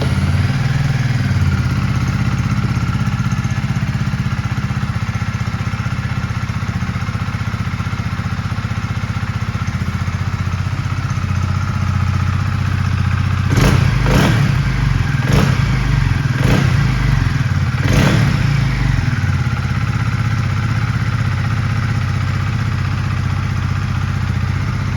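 A 2019 Honda CB125R Neo Cafe Racer, a 125cc learner-legal naked sports motorcycle, runs with a loud, steady engine drone for the whole stretch, and a quick series of sharp thumps and clatters cuts in near the middle.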